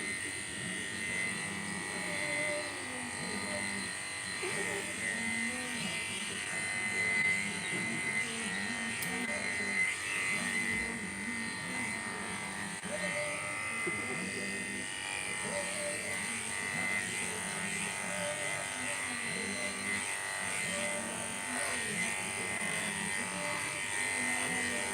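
Andis Ultra Edge electric clippers hum steadily and continuously while grooming a Ragdoll cat, a close, even buzz running throughout with slight shifts as the blade moves through fur.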